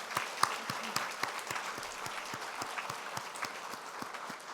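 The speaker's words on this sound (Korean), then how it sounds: "우리 박수 한번 부탁합니다." A church congregation at a Sunday worship service gives a steady round of applause, many hands clapping together in a dense, even patter that runs throughout the clip.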